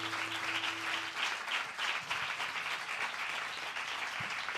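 An audience applauds the band at a LOS40 Backstage concert, a steady wash of clapping from many hands with a faint tone fading out early on.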